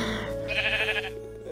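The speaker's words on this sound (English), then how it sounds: "But I'm gonna find some sheep" Sheep bleating in Minecraft, a single wavering bleat at close range against a steady in-game background hum, with no talk over it.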